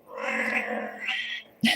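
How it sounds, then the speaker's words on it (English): A house cat meowing nearby, one drawn-out wavering meow followed by a short sharp cry, fairly loud and alone. "So my cat says"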